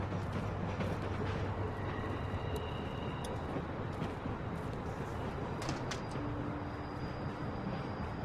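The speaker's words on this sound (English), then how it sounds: "We need to stop this train." A constant low rumble with a mechanical rattle continues steadily throughout, a moving train in a video game, with faint thin tones drifting above it.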